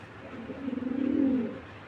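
A domestic pigeon, among Bagha, Madrazi, Military and Cobra breed birds, gives a single close, low, throaty rolling coo that swells and fades over about a second, clear and uncovered.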